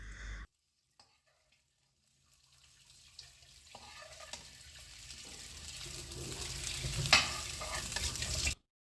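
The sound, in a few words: stir-frying chow mein noodles with sausage and egg on high flame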